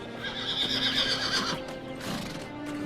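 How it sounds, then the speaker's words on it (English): Bucephalus, the horse, gives one loud, close whinny that rises and wavers for over a second, followed by hoof scuffs and snorting. "This is Bucephalus, my best horse."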